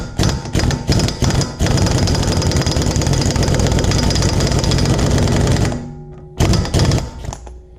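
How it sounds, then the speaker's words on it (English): Pneumatic impact wrench hammering on a rusted CV axle nut of a 2007-13 Honda Fit, a loud rapid rattling burst running several seconds, bracketed by short choppy bursts before and after. "put the socket on there and put the impact wrench to it and see if that works"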